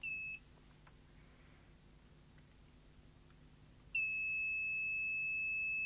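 A multimeter in continuity mode lets out a short high beep, falls quiet for a few seconds, then sounds a steady, unbroken tone that holds to the end over faint background hum.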